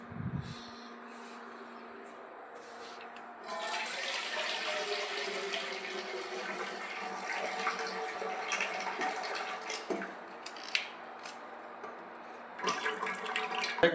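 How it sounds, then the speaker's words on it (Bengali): Cooking water from boiled local chicken is poured off into a sink, a steady splashing rush that swells after a few seconds and runs on, close and moderate, with brief pauses near the end. "এই যখন আমরা জলটা ফালাই দিতেছি,"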